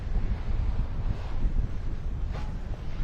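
Strong wind gust buffeting a 9.5 m sailboat at sea, a steady roaring rush with heavy low rumble across the microphone, loud and continuous with no talking.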